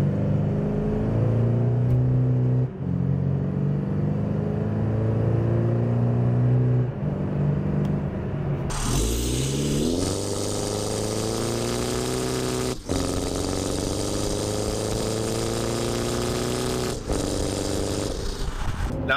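A tuned Chevrolet Colorado Duramax diesel pickup with downpipe and exhaust accelerates hard from 20 mph, engine note climbing steadily, dropping at a gear change, then rising again, heard loudly from inside the cab.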